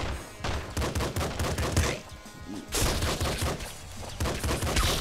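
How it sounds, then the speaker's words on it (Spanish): Dense, rapid gunfire and explosive blasts from area-effect weapons in the video game Nuclear Throne, nearly continuous crackling bursts with a brief lull in the middle, loud with no talk. "No he entendido esos disparos en área."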